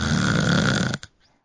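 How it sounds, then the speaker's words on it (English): A person snores loudly with a long rough rasping inhalation, ending abruptly with a brief snort, then silence. "We call that snore Ebenezer Scrooge."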